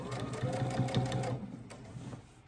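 A sewing machine stitches fabric on a McCall's M7831 garment, running steadily with a rapid rhythmic hum for over a second, then stopping and leaving quieter handling noise.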